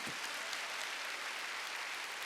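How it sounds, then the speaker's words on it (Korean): A church congregation claps during a service, a steady dense patter of many hands that is faint and distant and continues evenly throughout, with no voices. "박수 치려면 세게 치라니까."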